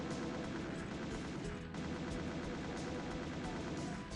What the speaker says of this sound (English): Now I get double teamed by the chain gunners.